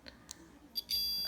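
Multimeter in continuity mode beeping while probing capacitors on a circuit board, a short bright electronic beep near the end after faint probe clicks, close and fairly quiet.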